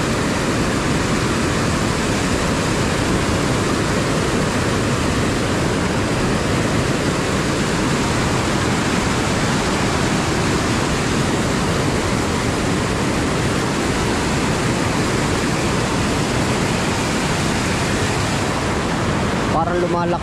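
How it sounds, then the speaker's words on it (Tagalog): Floodwater rushing during rain, a dense, steady roar of flowing water that fills the whole clip, loud and close, with no break. "Baha na naman po ay."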